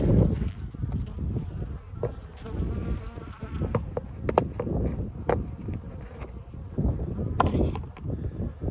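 A honeybee colony, checked for mites late in the season, gives off a close, steady buzzing hum, dense and continuous, with a few faint clicks of handling mixed in and no voices.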